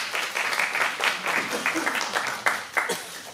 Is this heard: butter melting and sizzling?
no